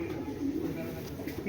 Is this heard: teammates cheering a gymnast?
no